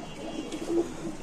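A white Bombay pigeon gives a soft, low coo, a brief close murmur rising once near the end of a short quiet moment.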